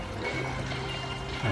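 Water from a shower feature pours steadily into a koi pond, a close, continuous splashing stream with no talk.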